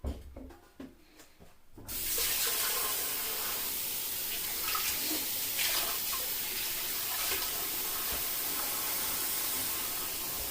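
Leftover soup is poured down a kitchen sink drain while tap water runs, a steady loud rushing hiss that starts after a couple of seconds of quiet handling noises and continues without pause.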